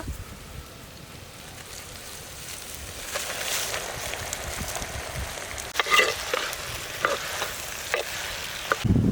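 Chicken sizzles in a pan with ginger paste, turmeric and spices, a steady frying hiss from start to end, punctuated by sharp utensil scrapes and clacks of stirring that grow louder toward the end.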